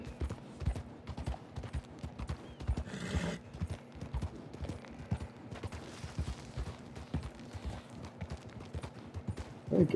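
In Red Dead Redemption 2, a horse's hooves clop in a quick, uneven rhythm, with a whinny partway through and a low steady hum beneath, mostly moderate in level with a louder burst at the end.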